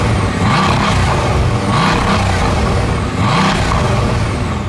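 A Bugatti Veyron's exhaust gives a loud, continuous broadband roar with a turbine-like rush that swells in a few surges while the car runs nearby.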